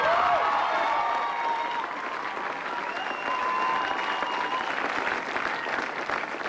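A big crowd applauds the champion at a 1990 tenpin bowling final at Browns Plains, giving sustained, even clapping for several seconds, with a faint voice underneath.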